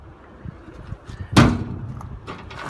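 A door on a 2001 Ford F250 pickup truck opens with a single solid clunk partway through, heard close over low background rumble.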